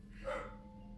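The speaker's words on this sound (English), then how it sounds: "He is so annoying with the barking." A pet dog barks indoors, one short bark rising briefly over a steady low hum in a quiet room.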